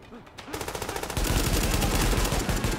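Burst-fire gunshots in the shooter game Tom Clancy's The Division: quick, evenly spaced cracks that build into a loud, dense rattling volley, with a faint voice briefly at the start.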